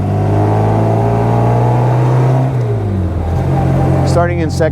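A 1960 Bugeye Sprite sports car engine revs and pulls hard close by, starting off in second gear, its pitch climbing then settling as it accelerates, with a brief voice near the end.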